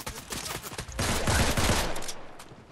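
Rapid bursts of video game gunfire in Fortnite crackle in quick succession, growing denser and louder midway before tapering off, with no voices.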